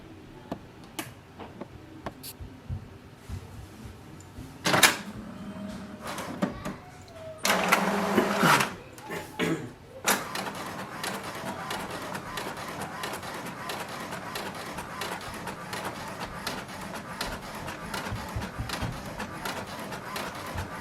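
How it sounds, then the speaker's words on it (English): HP DeskJet 2332 inkjet printer printing a document: quiet ticks and clicks, then a louder whirring mechanical feed burst and motor pass, followed by a steady rhythmic buzz of the print head shuttling back and forth. "So here we can see it's printing."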